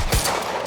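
Gunfire erupts in the video game Quantum Break: a sharp, loud burst of shots near the start, followed by a dense, noisy firefight that continues to the end.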